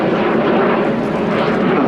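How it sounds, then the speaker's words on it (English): A Breguet Alizé French Navy turboprop aircraft flies past at an air display, a loud, steady broadband engine roar that holds strong and even throughout with no talk. "the very distinctive Breguet Alizé, only flying example of this type in the world as well"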